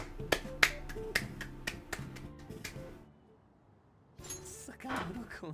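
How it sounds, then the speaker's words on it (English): A scattering of soft, light claps, like a polite golf clap, over game music and effects during a Persona 5 Royal stream, fading out midway before other game sounds return. "More like a soft golf clap."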